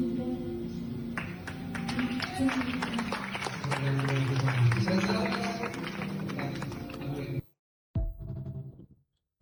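Audience in a church clapping together during an Indonesian sermon on healing, a dense sustained wave of applause with cheering voices that cuts off abruptly, followed by a short renewed burst.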